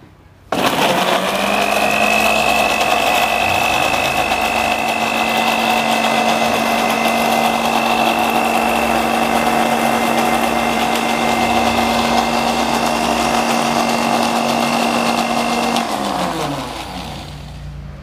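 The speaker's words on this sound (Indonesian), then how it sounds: "Di blender ya" A kitchen blender runs steadily for about fifteen seconds, grinding sambal ingredients, with a loud even whir and a steady high whine that slows and fades at the end.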